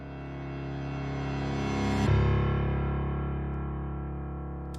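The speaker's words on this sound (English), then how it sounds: "took the original bass piano that we had here, exported that into a wave, and reversed it so that it hits just before the fifth bar" Reversed bass piano sample that swells steadily louder over a deep sustained low tone, peaks and cuts off sharply just past the midpoint, then leaves a fading dark tail, with nobody talking.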